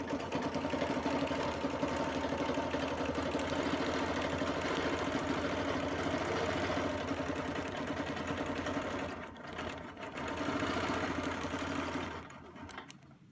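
A quilting machine hums steadily while stitching Baptist Fan arcs with a 12-inch circle template, a continuous close mechanical whir that briefly dips and then resumes before stopping near the end.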